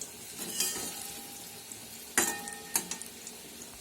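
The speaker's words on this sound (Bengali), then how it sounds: "সেই মাথাটা বেটে তারপর বেসন, পেঁয়াজ, লঙ্কা, কালো জিরা এইসব দিয়ে বড়া করছি" Prawn-head fritters made from ground prawn heads, gram flour, onion, chilli and nigella seeds fry in a pan with a soft steady sizzle, broken by a few sharp scrapes and clinks of a utensil against the pan.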